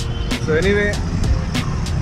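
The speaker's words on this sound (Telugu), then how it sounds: "ఈ ట్రాఫిక్ సౌండ్ లేకుండా ఉంటే బాగుండేది," Road traffic noise in the city near Cubbon Park, Bangalore, a steady hum of passing vehicles with horn-like tones, running under someone speaking briefly.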